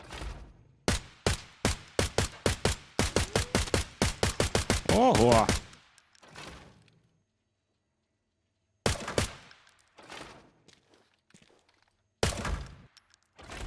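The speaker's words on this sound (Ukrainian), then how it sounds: "Зараз хотів би перемкнутися на одиночні одинарні постріли" Gunfire in the shooter game Arena Breakout Infinite: a fast string of about twenty close, loud shots, then silence, followed by a few scattered single shots and bursts, with a brief exclamation from a player.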